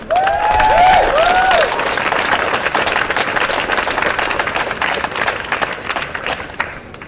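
A crowd at a People's Climate March speech breaks into loud, sustained applause with a few whistles at the start, the clapping slowly thinning out over several seconds.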